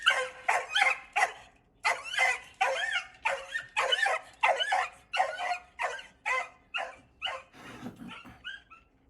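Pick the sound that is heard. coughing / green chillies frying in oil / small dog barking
small dog barking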